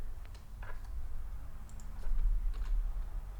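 Quiet clicking of a computer keyboard as text is typed, a few light scattered keystrokes over a low steady hum, faint and close.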